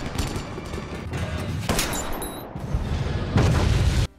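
Gunshots ring out in an action film scene as a 3 kg subsidized gas canister sliding off a roof is shot, several sharp loud cracks and booms over a dense, rumbling soundtrack.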